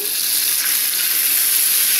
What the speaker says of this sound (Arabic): كده خلاص احمر الثوم، احط على طول الخل